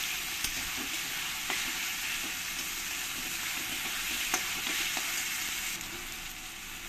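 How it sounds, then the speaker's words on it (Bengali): Chopped tomatoes frying with spices in a pan for paneer masala. They make a continuous, fairly even sizzle with occasional sharp spatula taps and stirring scrapes, and the sound eases slightly near the end with no voices. "টমেটোগুলো দিয়ে আমি মশলার সঙ্গে একসঙ্গে কষিয়ে নেব।"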